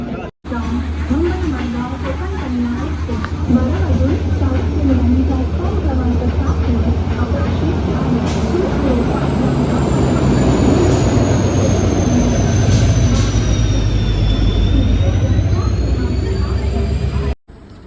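A train pulling out of Thane, heard from inside a 3rd AC coach: a steady, loud low rumble with a continuous rolling clatter that runs throughout, and voices murmuring faintly in the background.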